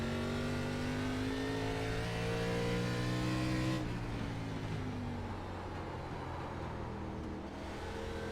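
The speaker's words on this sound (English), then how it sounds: "If you could hear the tires squealing when we're entering these corners" A race car in the iRacing sim at North Wilkesboro drones loudly with a steady engine tone, its pitch dropping into corners where a faint tire squeal emerges under the constant roar.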